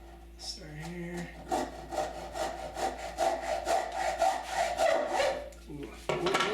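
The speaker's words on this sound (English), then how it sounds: "Now I'll put this in the vise, and I'll do this one with a hacksaw" Hacksaw cutting a piece of wood clamped in a vise for a half-lap picture frame joint, with a rapid run of rhythmic rasping back-and-forth strokes, close and loud, no voices.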